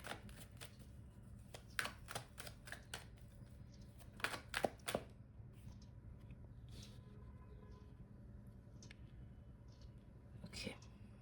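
Tarot cards being shuffled and drawn during a card reading: a run of crisp, quick riffling clicks and slaps in bursts early on, then sparser card snaps, set against a soft hiss and low room hum with quiet whispered talk.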